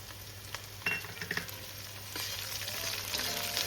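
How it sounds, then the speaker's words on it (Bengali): Chopped green chillies hit a pan of frying taro stems, producing a soft sizzle broken by a few clattering stirs before settling into a fuller, steady frying hiss. "এবার আমি এর মধ্যে দিয়ে দেব কেটে রাখা কাঁচা লঙ্কা"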